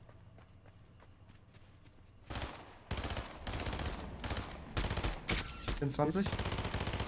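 Sharp bursts of weapon fire in a Fortnite match rattle out in several loud, clipped volleys after a quieter stretch, while a player speaks briefly beneath the action.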